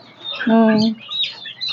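Country chickens on a small-scale poultry farm give a short, drawn-out cluck while feeding, with faint bird chatter and rustling around them.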